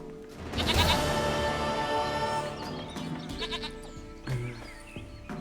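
A goat in the video game The Witcher 3: Wild Hunt bleats loudly and repeatedly in wavering cries, with a few softer bleats at the end and no talk.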